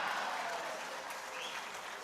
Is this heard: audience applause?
yes